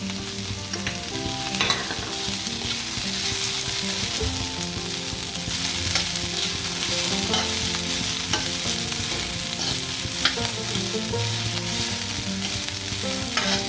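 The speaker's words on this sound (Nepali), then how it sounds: "मजाले चलाइ भुट्नु होला" Chopped capsicum and carrot stir-fried for noodles hiss and sizzle steadily in a hot pan, with occasional scraping stirs, close and continuous with no talk.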